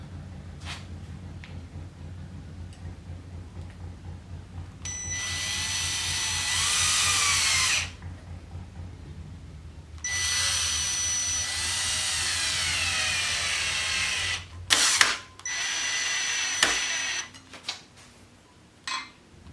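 A power drill drives Phillips head screws into a vintage bicycle in several sustained whining runs a few seconds each, rising in pitch, with short clicks and pauses between, close and without speech.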